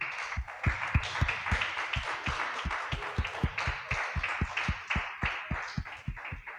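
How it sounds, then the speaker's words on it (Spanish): Rhythmic unison clapping from a church congregation, a steady beat of many hands striking together at a brisk, even tempo with a faint wash of voices behind it. "Le damos un aplauso al Señor"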